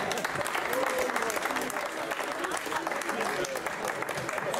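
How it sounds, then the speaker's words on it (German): Dense, steady applause from the audience at a Tour der Hoffnung charity event in Lauterbach, loud and close, filling the whole stretch without a break. "Kräftigen Applaus."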